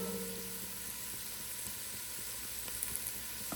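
Chopped onions sizzle and fry steadily in a hot pan for chili, a dense even hiss with faint crackles and no voices.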